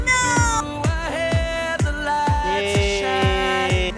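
A cat meows over and over at close range, a rapid string of loud, tonal, slightly wavering cries with no pauses between them.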